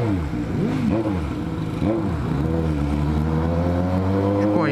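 A motorcycle revs and accelerates close behind a Honda Hornet rider in city traffic, its engine tone rising and falling in repeated revs before settling into a steady drone.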